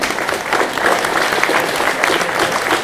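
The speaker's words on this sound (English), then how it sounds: "So just a big round of applause, and hopefully we can help them out." A conference audience breaks into loud, close applause. The clapping is dense and continuous, with slight swells, and carries on steadily.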